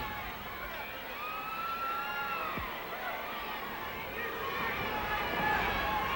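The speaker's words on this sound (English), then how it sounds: "You can hear the crowd picking up the chant Fleabag, referring, of course, to Miss Brenda Britton." A wrestling crowd chants a repeated taunt aimed at a female wrestler, the rising and falling voices merging into a steady, moderately distant roar of arena noise.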